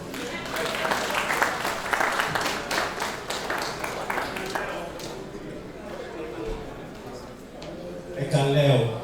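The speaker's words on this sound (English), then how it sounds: "please a round of applause." A convention crowd of Ogbomosho diaspora members claps for Mr. Alex Wande, a broad wash of applause that gradually thins, with someone speaking over it toward the end.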